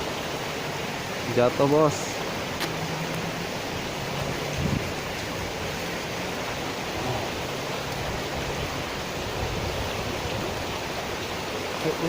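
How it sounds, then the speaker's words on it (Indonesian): Light rain falling during freshwater tilapia fishing outdoors, a constant soft hiss filling the background, with a man's brief speech and a small splash or clatter near the start. "Mumpung hujannya masih kecil."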